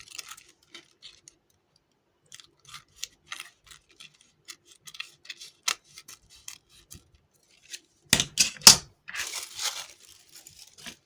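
Scissors snip excess paper off a Christmas cracker place card, a series of small crisp cuts and light paper rustles, then a louder cluster of snips and crinkling near the end, close and quiet with no speech.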